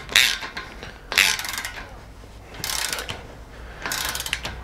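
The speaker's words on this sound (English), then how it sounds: "this bolt should be tightened to 72 foot-pounds. Very satisfying sound." A ratcheting torque wrench tightens a bolt on a motorcycle's suspension, giving four close bursts of quick, crisp clicking with short pauses between them.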